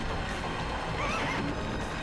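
A horse whinnies in The Legend of Dragoon, a rising, quavering neigh over steady game background sound, with faint hoofbeat-like clatter and no talk.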